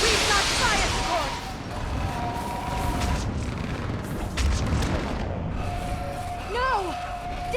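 Artillery fire-support blasts and booming gunfire in a Mass Effect 3 battle, loud and continuous through the clip with swooping synthetic tones, while voices shout over the din.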